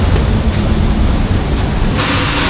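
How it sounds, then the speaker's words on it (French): Loud, continuous broadband rush of a waterfall inside a theme park ride's cave, a steady roaring wash with no pauses. "La cascade."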